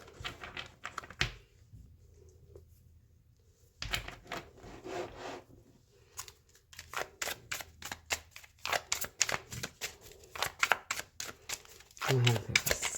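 Tarot cards are shuffled by hand in a run of close, rapid riffling slaps and rubs, broken into bursts, while a person talks over parts of it.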